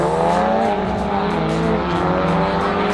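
Engines roar loud and steady at a South African cash days drag race as a Mercedes-Benz and a G7 run side by side down the strip, the sound sustained throughout with no talk over it.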